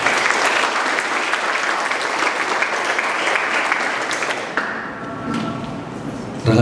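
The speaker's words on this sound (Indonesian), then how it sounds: "Saya tepuk tangan untuk kita semua." Seminar audience at a university in a customer service session, clapping loudly and steadily in a dense burst that thins out and tapers before a final swell.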